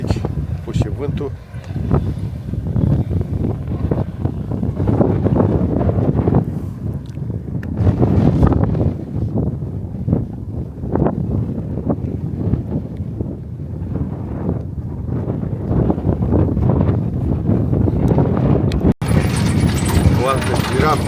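Strong wind buffets the microphone in a continuous rough roar, with a voice talking through it, on safari in Etosha National Park.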